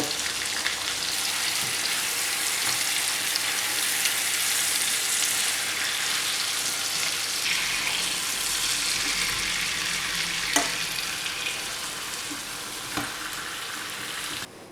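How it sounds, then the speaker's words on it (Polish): Breaded pork loin chops fry in hot fat in a pan, giving a continuous, fairly quiet crackling sizzle with a few sharper pops and light clinks, with no voices. "kładziemy nasze schabowe i obsmażamy je przez około 4 minuty z jednej i z drugiej strony"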